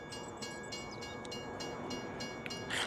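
A train in the Farming Simulator 25 game rumbling past in a town, a steady rolling clatter with rhythmic wheel clicks and a brief horn-like tone near the end, heard alone.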